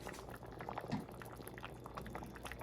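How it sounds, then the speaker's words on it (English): Vegetable soup boiling in a pot on the stove, a faint, even bubbling and gurgling that carries on steadily through the whole stretch. "I'm gonna leave it at that temperature for that level of boiling"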